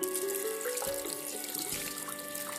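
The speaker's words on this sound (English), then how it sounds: "First thing you need to do is wash the stick." A stick rinsed under a running tap, a steady close hiss of flowing water with small splashes and shifting trickles as it is turned in the stream.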